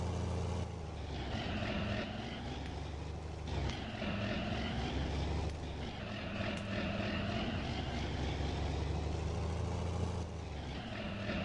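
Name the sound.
John Deere tractor engine in the video game Farming Simulator 19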